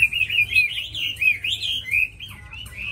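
A tame hwamei songbird sings a clear, continuous run of bright whistled and warbling phrases, close and prominent over quiet background noise.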